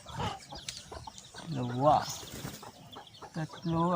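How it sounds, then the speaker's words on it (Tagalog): Farm hens cluck and croak close by in short, uneven calls, with someone talking between them. "Mga 10 ata yung mga inahin nating manok."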